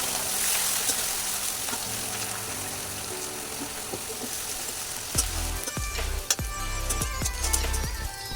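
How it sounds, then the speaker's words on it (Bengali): Chopped onion, garlic and green chilies fry in hot mustard oil in a kadai with a steady, close sizzle. Several sharp scrapes and knocks of stirring join in during the second half. "প্রথমে এগুলো ঘেটে নেব লঙ্কাগুলোকে।"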